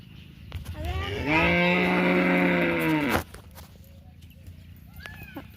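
A cow lets out one long, loud moo close by, with quieter farmyard rustling before and after.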